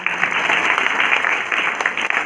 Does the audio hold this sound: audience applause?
yes